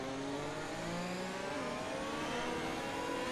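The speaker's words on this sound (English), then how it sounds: "It's a car race." Race car engines whine steadily at high revs, with pitch sweeping slightly up and down as the cars pass. The sound is continuous and fairly faint, like a distant broadcast.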